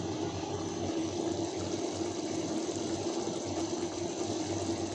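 Water poured steadily to water cabbage and other garden vegetables, a continuous close splashing flow at even loudness without a break.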